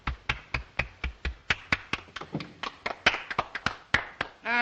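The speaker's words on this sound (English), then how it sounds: "Applaud." A small group claps in an old black-and-white suspense film, with sharp, distinct handclaps in a quick, somewhat irregular rhythm, close and crisp, several people slightly out of step.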